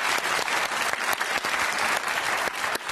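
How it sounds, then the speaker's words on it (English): Dense, steady audience applause in a television studio during a late-night talk show, loud and continuous with a few sharper claps standing out from the wash. "Give them a round of applause."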